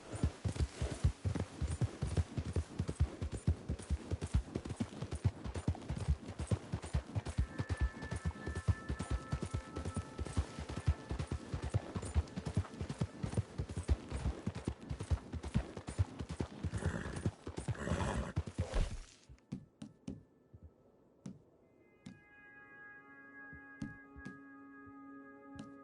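Horse galloping in Red Dead Redemption 2: a dense, fast hoofbeat rhythm runs loud for about nineteen seconds, then cuts to quieter ambience with scattered faint knocks.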